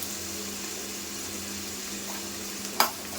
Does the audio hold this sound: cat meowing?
no